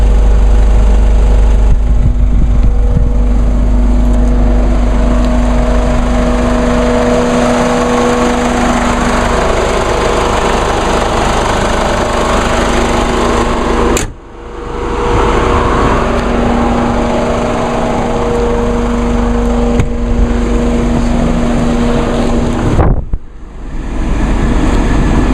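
A diesel vehicle with dual exhaust idles steadily and loudly up close, a constant low rumble with two brief dips in level, and no talking.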